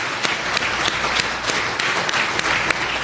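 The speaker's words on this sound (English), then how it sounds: "Let's give a round of applause to everyone" An audience at a bridge milestone celebration gives a round of applause, a dense even burst of many hands clapping that lasts about three seconds.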